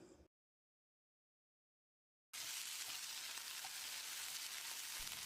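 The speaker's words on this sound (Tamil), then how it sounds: "அரை கட்டு புதினாவை அலசி எடுத்து வச்சிருக்க இதை போட்டுக்கலாம். ஒரு 30 செகண்ட் இதை வதக்கிடலாம்" Mint leaves sautéing in a pan for a potato rice dish make a steady, close sizzle with light frying crackle; it cuts in abruptly after about two seconds of silence and holds without talk.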